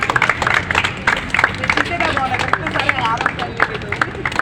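Scattered clapping from a crowd welcomes a garlanded woman guest at a certificate ceremony for a national unity cricket match in Karachi. Uneven claps ring out close by amid murmuring voices and talk.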